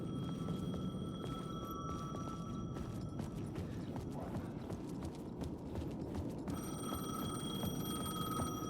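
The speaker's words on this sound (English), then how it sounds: "The payphone was ringing." A payphone rings in the video game Alan Wake 2, its repeated electronic ring steady over a dense, busy ambient background, pausing midway before resuming.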